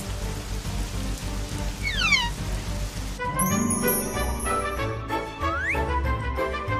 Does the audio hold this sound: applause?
no